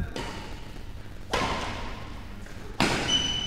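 Racket strikes on a shuttlecock during a men's singles league badminton match: three sharp, hollow thwacks about 1.3 seconds apart, each ringing briefly over a steady low hall hum with no talk.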